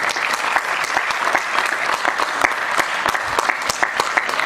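A theatre audience at a staging of the play Rakt Ranjit Mayur Pankh claps to welcome a guest onto the stage, a dense, steady burst of many hands, loud and sustained throughout.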